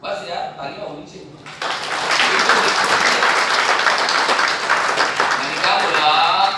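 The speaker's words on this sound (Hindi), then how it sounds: "बस यार तालियां होनी चाहिए।" An audience breaking into applause after a speaker's prompt, with a voice talking first and then a loud, sustained wall of clapping filling the room.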